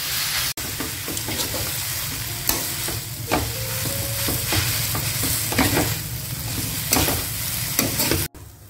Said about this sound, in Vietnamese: Mình xào hủ tiếu trước vậy cho hủ tiếu nó chín nè.